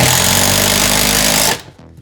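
A power driver sinks a kit-supplied screw through an anti-tip range bracket into a wooden bottom plate, giving a loud, close, steady whirring grind that stops abruptly near the end.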